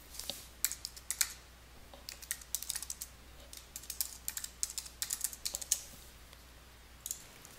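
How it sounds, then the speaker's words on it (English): Someone types a username and password on a computer keyboard, a quiet, irregular run of key clicks in short bursts with small pauses between them, close to the microphone and with no talking. "I'm going to enter my username and password and press the login button"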